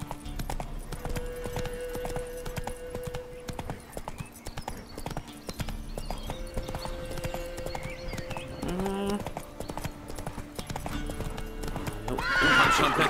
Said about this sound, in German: Wenn wir uns hier nicht wieder irgendwie verreiten. Weil der Koali nicht reiten kann. Komm hier querfeld ein